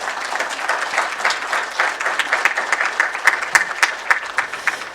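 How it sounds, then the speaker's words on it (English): An audience stands and applauds a chief guest after his speech at a formal ceremony, steady close clapping from many hands with a lively uneven rhythm, continuous for the whole stretch. "May we be upstanding for 10 seconds and clap for the chief guest for the speech delivered."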